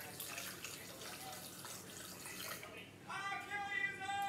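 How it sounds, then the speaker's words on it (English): Tap water pours into a blender jar for a homemade smoothie, a steady splashing stream over a background hiss that grows brighter and more resonant partway through as the container fills. "so we're gonna add water"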